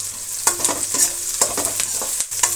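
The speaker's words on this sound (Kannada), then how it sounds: "ತುಂಬ ಫ್ರೈ ಆಗಂಗಿಲ್ಲ ಈರುಳ್ಳಿ, ಸ್ವಲ್ಪ ಫ್ರೈ ಆದರೆ ಸಾಕು." Chopped onions with curry leaves fry and sizzle steadily in a pan for a village-style okra gojju, with scraping stir strokes and spatula clinks breaking through a close, constant hiss.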